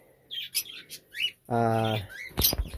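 Small pet birds such as finches, lovebirds and quails give scattered high chirps and tweets, then one longer buzzing call, close by with no talking.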